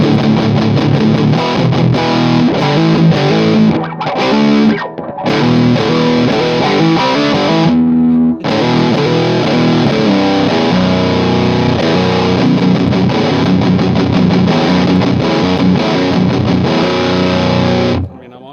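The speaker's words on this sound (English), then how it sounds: "Distortion all the way up on vintage." Heavily distorted electric guitar run through a Mooer Black Secret distortion pedal in vintage mode with the distortion fully up, playing loud sustained chords and riffs steadily with only brief gaps.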